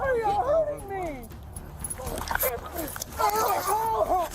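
A dog yelps and whimpers in distress during a tense police encounter outdoors, its high cries overlapping shouting voices and commotion.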